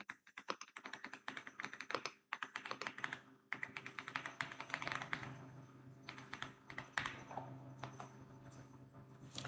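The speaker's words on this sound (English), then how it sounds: "Make sure you type the codes the way you see them on the screen" Commands typed on a computer keyboard during a software install, rapid close clicky keystrokes in bursts with short pauses, quiet and alone.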